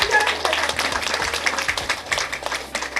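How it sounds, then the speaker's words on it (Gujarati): Audience applause at the Surat Wonder Women Award ceremony for Women's Day, a dense, steady patter of many hands clapping throughout, fairly loud and close. "તો જોરદાર તાળીઓ થઈ જાય"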